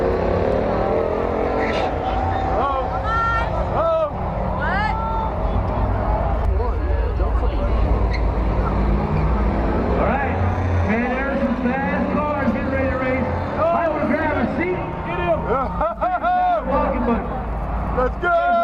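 Drag racing cars at a rock and roll car show run loud and continuous engine roar throughout, with a crowd and voices talking over the din.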